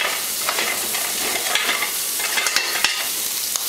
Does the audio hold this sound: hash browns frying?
yes